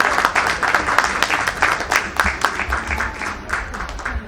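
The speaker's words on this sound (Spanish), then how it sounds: "Vamos a recibirla también con fuertes aplausos" An audience at a Spanish-language novel presentation gives warm applause welcoming a university professor, a dense run of many hands clapping steadily throughout, fairly loud, tapering slightly toward the end.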